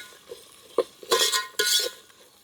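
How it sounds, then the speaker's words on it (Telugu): Ingredients for vegetable biryani, green peas among them, are stirred in a pan. A spoon scrapes and clinks in a few short strokes over a faint background sizzle. "ఇటు అటు తిప్పుకుందామండి"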